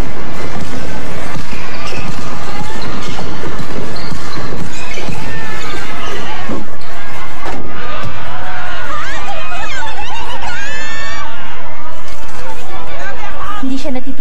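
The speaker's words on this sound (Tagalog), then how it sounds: "Hindi siya natitinag ng hiyawan ng mga babae." Women in a crowd scream and shout at a basketball game, a loud, dense wash of shrieks and chatter with ball bounces and shoe squeaks, peaking in high, rising cries near the end, with a commentator speaking over it.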